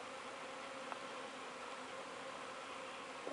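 Feral honeybees swarming outdoors near a beehive, a dense, even buzz from many insects filling the air continuously, with one or two bees passing briefly closer.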